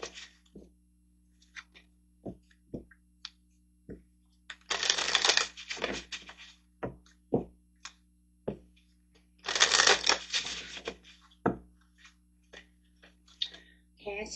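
Oracle portal cards being shuffled nearby, with two long bursts of riffling flanked by scattered soft taps and flicks of cards, no talking.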